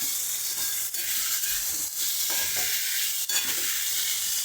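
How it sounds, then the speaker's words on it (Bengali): Ingredients for bhorta frying in a pan with a steady, close sizzle, broken by several scraping stirs of a spatula; no one speaks. "এইটা দিয়ে আমি 2 মিনিট ভাজা করব"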